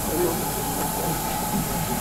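A steam locomotive hisses steadily at the Epping and Ongar Steam Railway during a Festival of Steam gala, a loud, even rush of escaping steam with a low rumble beneath and a voice faintly present.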